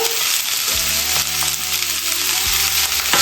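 Rice and eggs frying in a pan on a stove over medium heat for spicy chicken fried rice, a loud steady sizzle with scraping stirs and a few clanks of a utensil against the pan, no talk.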